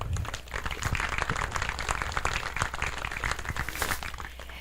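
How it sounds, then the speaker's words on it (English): Crowd applause at an outdoor Boxelder Bug Day coronation, a dense, steady wash of many hands clapping at moderate distance, sustained for several seconds without talk. "Let's give them a heartfelt round of applause for their service this year."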